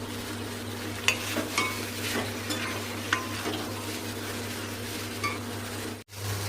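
Food frying on an induction cooker in a home kitchen, a steady low sizzle with occasional scrape and clink of a utensil in the pan, continuous and fairly close, with no talking.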